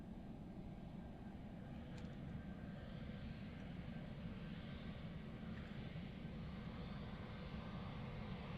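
Airliner engines roar steadily during takeoff at Lisbon Airport, a deep, broad rumble heard from a distance, faint and continuous without talk.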